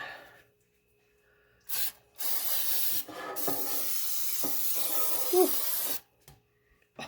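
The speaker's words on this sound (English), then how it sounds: "Let me get the cooking spray." Crisco butter no-stick cooking spray hisses in several bursts onto a loaf pan: a short puff, then a long steady spray, close and fairly loud, with faint sounds between.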